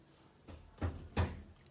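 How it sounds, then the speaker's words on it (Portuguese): Two sharp knocks on a bedroom door, the second about 0.35 seconds after the first, close and fairly loud against a quiet room with no talking. "batendo na porta, querendo entrar no quarto"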